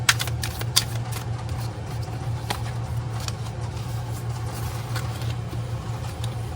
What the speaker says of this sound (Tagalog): Balasahin lang po natin maigi